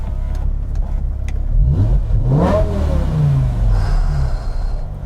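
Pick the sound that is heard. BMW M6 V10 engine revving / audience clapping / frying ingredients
BMW M6 V10 engine revving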